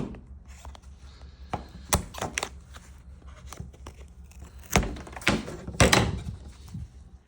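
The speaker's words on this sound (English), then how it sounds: "I'm gonna get my shears and I will open this up. Start with a snip at the top." Shears snip and cut through an Apple iPhone leather case made of suede, hard plastic and outer leather, giving several sharp close crunching cuts spaced over the stretch, the loudest bunched near the end.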